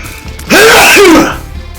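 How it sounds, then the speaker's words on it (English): One loud, close sneeze with a sharp inhaled lead-in and a breathy burst, standing alone against a quiet room. "Okay, I feel like I gotta sneeze."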